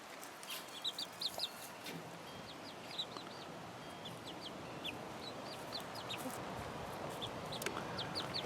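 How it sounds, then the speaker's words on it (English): Young chicks in an incubator brooder cheep in rapid, high peeping bursts over a steady hiss, with occasional soft clucks; the calls are scattered and fairly faint throughout. "These 10 chicks are still adorable."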